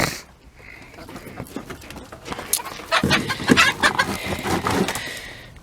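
Backyard chickens clucking around a coop built from scrap materials, several birds making scattered clucks that grow busier and louder toward the end, with outdoor background noise.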